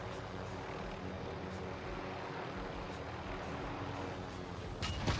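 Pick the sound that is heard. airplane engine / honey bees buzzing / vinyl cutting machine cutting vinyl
airplane engine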